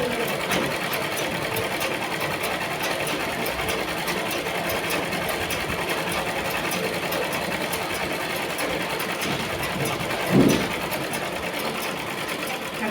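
A sewing machine runs steadily while stitching the side opening of a chudi, a continuous close mechanical whir with one brief louder bump near the end.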